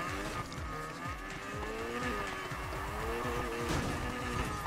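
A rotary-engined 13B Honda Civic in the racing game NFS Heat buzzes through rapid rising rev sweeps and gear shifts, with tire squeal and skidding mixed in, steady and fairly quiet throughout.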